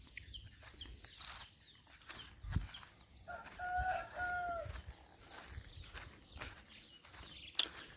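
Chickens on a rural farm being readied for sale, with soft intermittent clucks and a couple of short tonal calls over a quiet outdoor background, with no talking.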